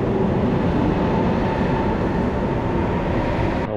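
A train rumbles steadily through a station in Cinque Terre, a loud, continuous low roar of wheels and carriages with no voices over it.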